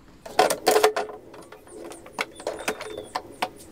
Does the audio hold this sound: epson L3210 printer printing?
yes